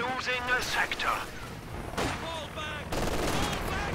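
A strafing run in Company of Heroes 2 sends bursts of rapid gunfire and thumping impacts, mixed with game voices and chatter layered over the shooting.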